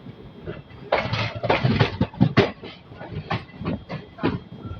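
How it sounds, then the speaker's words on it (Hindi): Rumbling train with rhythmic clatter of wheels over rail joints, heard from inside and close, the pace slowing as it pulls into Bokaro Steel City railway station. "हमारी ट्रेन अराइव हो रही है Bokaro steel city railway station में।"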